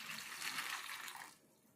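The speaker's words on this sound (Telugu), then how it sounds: "ఇప్పుడు ఇందులో నీళ్లు వేసుకుందాం." Water from a vessel pours onto a bowl of puffed rice, a soft continuous splashing rush that runs about a second and a quarter, then cuts off into quiet.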